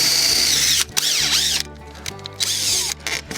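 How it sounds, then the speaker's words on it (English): A power drill bores a small pilot hole into the corner of a chicken coop, whirring loudly with a few brief pauses and a ratcheting, geared edge to its motor, close up and without talk. "I'm gonna put just a small little pilot hole on each 4 corner"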